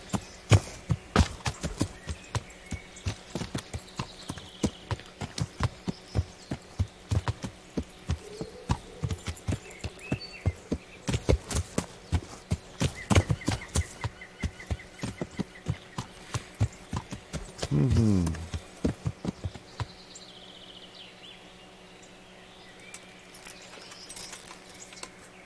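Horse hooves clip-clop in the Kingdom Come Deliverance video game, a steady rapid trot of close, crisp hoof beats that continues for most of the stretch before slowing and stopping, with a brief whoosh near the end.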